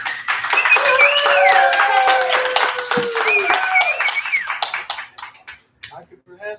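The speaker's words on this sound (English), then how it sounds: "May we have one more round of applause." Audience at a theater discussion of Pride and Prejudice at GCT Theatre claps loudly for several seconds while a voice carries over the applause, which thins out and stops near the end.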